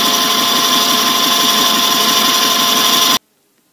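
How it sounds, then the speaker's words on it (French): A loud, steady machine drone runs continuously while a hole is drilled for a centering piece during a modification to a Promecam RG 25 press brake, then cuts off abruptly. "je vais faire un trou pour mettre ce centreur là"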